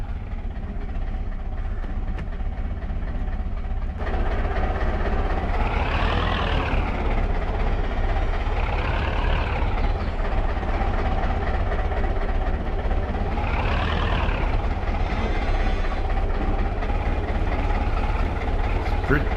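A small tractor engine pulling a big plow in Farming Simulator 22, a loud continuous drone with periodic rising and falling revs, heard alone without talk.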